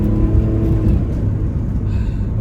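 A 1995 Buick Park Avenue Ultra with its supercharged 3800 V6, burning a little oil on the exhaust manifold, is given gas: a close, loud, steady low engine drone with a faint supercharger whir, briefly easing near the end.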